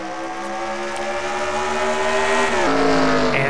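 Race trucks in the SCRL Rainbow Dash Truck Series roar around Mesa Marlin in a steady, loud engine drone whose pitch climbs and then drops as they pass.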